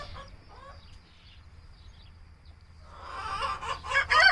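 A hen on a university farm clucks softly and close by, a few faint calls early, then louder repeated clucks building toward the end.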